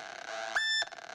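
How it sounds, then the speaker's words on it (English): Modular synthesizer sequencer stepping through control voltages sent to the oscillators, producing a sharp burst of pitched electronic tones that jump in steps, loud and close with no talking. "it's sending a different control voltage to the oscillators, which is this kind of wild jumping sound you're hearing right now."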